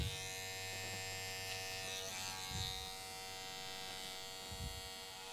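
A hair clipper buzzes steadily at close range while cutting hair for an undercut hairstyle. The tone shifts slightly as it moves through the hair, with soft bumps of contact.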